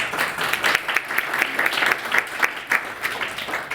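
A live book-event audience claps for the booksellers, a moderate round of applause with distinct individual claps pulsing in close succession.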